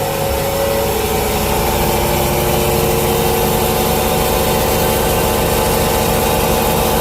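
An LG F1066LP washing machine, just fitted with a new heating element and motor brushes, runs with a constant motor hum and whirring drain pump, loud and steady from start to finish, no talking.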